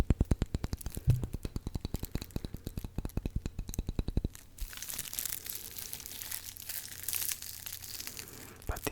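Gentle, close-up crinkling of a soft material, rustling irregularly after a run of steady, evenly spaced taps, all quiet and intimate with no voices.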